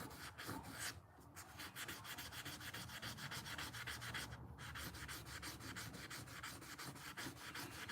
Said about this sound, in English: I think it's a 1200 grit sanding pad, so it's not really doing anything but kind of cleaning and scrubbing.